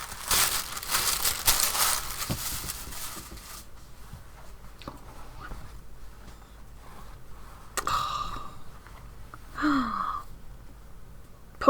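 Tissue paper rustles and crinkles up close. The handling is loud and dense at first, then becomes sporadic and softer, with occasional breaths.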